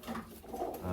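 A pigeon, a blue bar hen with white flights, gives a brief low coo at close range while being held.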